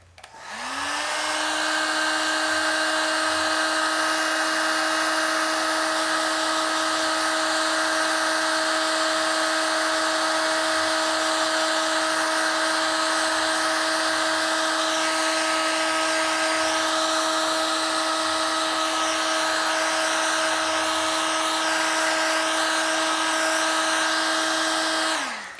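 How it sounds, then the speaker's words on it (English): Heat gun blowing over a shirt to cure red plastisol puff ink, a loud, steady electric whine with a sustained tone that spins up at the start and holds nearly unchanged for the whole stretch. "It's very hard to use a heat gun to do this kind of thing."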